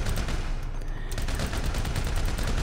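Heavy machine gun firing at a shooting range in the video game GTA V: a dense, continuous, loud burst of rapid automatic fire with no pauses.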